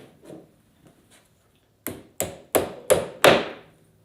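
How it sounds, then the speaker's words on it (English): Five sharp, evenly spaced hammer strikes drive big nails into wood for a homemade candy machine, each blow loud and close, with a few softer taps before them. "go ahead and hammer those in"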